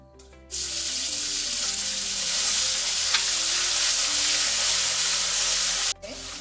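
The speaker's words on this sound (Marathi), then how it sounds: "तेल गरम झालेलं आहे. लसूण अद्रक घालते." Loud, continuous sizzling of garlic and ginger frying in hot oil bursts in suddenly, crackling steadily for several seconds before cutting off, with faint music underneath.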